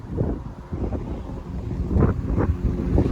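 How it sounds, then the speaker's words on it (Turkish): Gusty wind on a rocky Danish shore buffets the microphone in low, rumbling bursts that rise and fall, loud and close, with no talking. "rüzgar var tabii."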